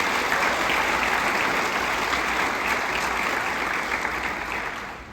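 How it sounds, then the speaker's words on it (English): Room full of educators clapping in a sustained round of applause, dense and even before tapering slightly at the end. "Give yourselves a round of applause."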